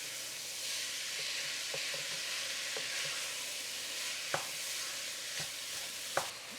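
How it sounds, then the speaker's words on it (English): Chili powder and spices sautéing in hot fat in a pan for a chili-style soup, a steady close sizzle with a few sharp utensil clicks and scrapes as it is stirred, no talking. "we're just gonna let that all saute together for a few minutes"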